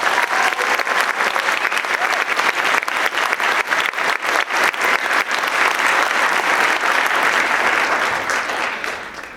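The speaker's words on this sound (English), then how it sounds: "I really think these kids deserve another round of applause after that." Loud, dense applause from an audience at a middle school honor band concert, sustained clapping that fills the hall for several seconds before starting to taper at the end.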